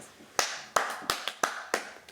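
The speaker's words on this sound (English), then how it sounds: "Clap your hands" Hands clapping at a toddler story time: six or seven sharp, distinct claps spread unevenly over about two seconds, close and clear with no talk.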